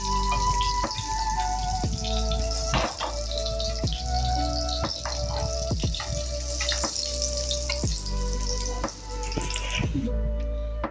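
Dry red chillies, bay leaves, cumin, a cinnamon stick and cardamom sizzle in hot oil in a pan while making doi potol, a steady close crackle with scattered sharp pops and no talk.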